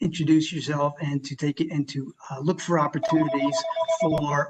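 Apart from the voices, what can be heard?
telephone ringing during online presentation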